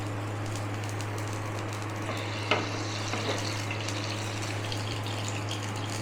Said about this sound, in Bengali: জলটা তো ফুটছে